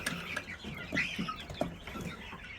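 Several chickens cluck close by in short, irregular bursts, with a few higher chirps mixed in.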